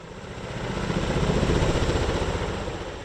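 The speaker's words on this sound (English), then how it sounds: "It is a compound helicopter with rigid coaxial rotors, powered by two Honeywell T55 turboshaft engines." A Sikorsky Boeing SB-1 Defiant compound helicopter with rigid coaxial rotors and two Honeywell T55 turboshaft engines flies past, its steady rumbling roar swelling to a peak midway and then easing slightly.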